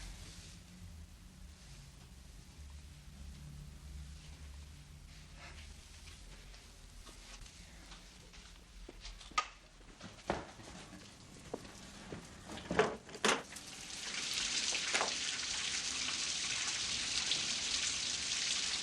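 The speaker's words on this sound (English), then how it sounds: "I love the rain." Rain falls outdoors as a faint, quiet patter, with several sharp knocks and clatters midway before the shower thickens into a steadier, brighter hiss toward the end.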